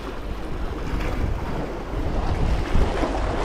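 Strong sea waves churn during shore fishing for pelagic fish, a steady close roar of surf mixed with gusty wind buffeting the microphone, continuous for the whole stretch with no voices.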